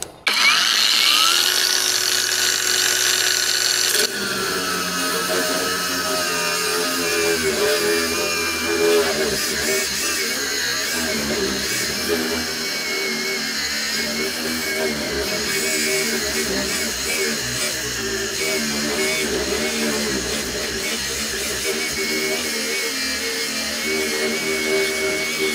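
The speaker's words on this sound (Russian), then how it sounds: "Да, резать будем сразу на второй скорости" A cordless Heimerdinger LB168 angle grinder at second speed cuts through thick metal, spinning up with a loud whine and then grinding steadily with a harsh, sustained screech for over twenty seconds.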